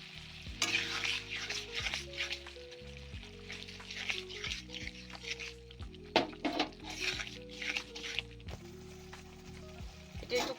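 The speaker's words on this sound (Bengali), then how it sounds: "এটা একটু কষিয়ে নেব মশলাটা ভালো করে" Spice paste for a taro and shrimp curry fries in a pan, a quiet sizzle broken by repeated stirring scrapes and clinks of a utensil against the pan, under a soft musical backing.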